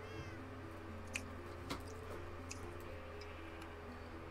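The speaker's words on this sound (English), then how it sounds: "Hear a cat at my door. A real cat." A faint cat meow from a video game, heard as though at a door, rises and falls near the start over a low steady hum, followed by a few quiet ticking clicks.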